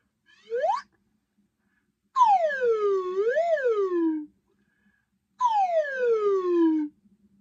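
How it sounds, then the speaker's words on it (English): A slide whistle plays three separate glides: a quick upward swoop, then a long falling slide with a rise in the middle, then another falling slide. "So I'm going to blow the slide whistle"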